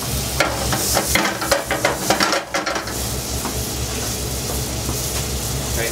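Bacon sizzles loudly in a pan for coq au vin, with busy stirring scrapes and utensil clatter during the first half before it settles into a steady close hiss, and nobody speaks.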